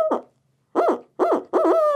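Owl call blown to imitate an owl's hoot, giving four loud, close hooting notes: one short note, a pause, then three notes in quick succession.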